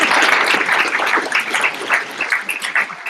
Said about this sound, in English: take a moment to genuinely appreciate and applaud those folks who helped you get here